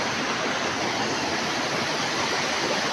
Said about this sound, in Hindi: पूरा पानी का साउंड आप लोग सुन रहा होगा पूरा